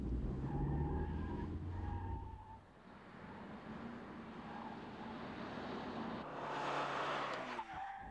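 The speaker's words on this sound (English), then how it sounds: "Okay, Brad, let's try her through the cones and see how she handles." A 1989 Ford Probe weaves through a cone course, its tires squealing in repeated bursts over the engine's rising and falling drone, with a louder screech near the end.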